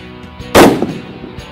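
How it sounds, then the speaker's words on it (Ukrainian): One sharp rifle shot from a Blaser R8 Ultimate cracks loudly and close, followed by a brief echoing tail, with no talk over it. "Зводимо шпаншибер, прицілюємось і пробуємо здійснити постріл."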